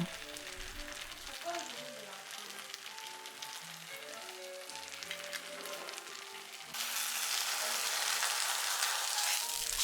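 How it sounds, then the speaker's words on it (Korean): A thin maesaengi seaweed and whole-wheat pancake with clams sizzles in a hot pan, a soft frying crackle under gentle background music that gives way to a louder, steady sizzle near the end. "그리고 구울 때 반죽물을 좀 적게 넣어서 되도록이면 얇게 다시 구웠어요"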